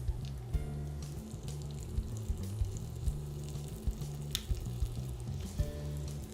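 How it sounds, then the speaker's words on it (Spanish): Floured quail seared in a little oil in a pan give a continuous sizzle over a low rumbling hum, dotted with regular soft knocks and an occasional crackle. "Solo lo vamos a sellar con un poquito de aceite."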